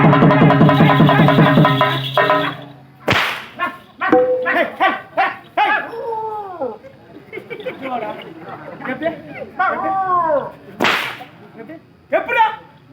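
A man imitates a dog barking during a Tamil stage drama comedy: loud, close, repeated yelping barks in quick bursts, with sharp whip-like cracks and other voices talking and shouting.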